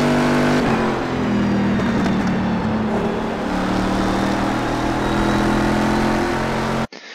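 A Corvette C6R race car in the iRacing video game runs at full throttle at Mid-Ohio, its engine note loud and sustained with a shifting pitch and a brief drop in level just before the end.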